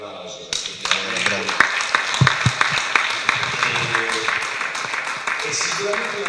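Audience applause at a book presentation in Martina Franca, a burst of rhythmic clapping that starts abruptly and carries on steadily, with a voice speaking over it.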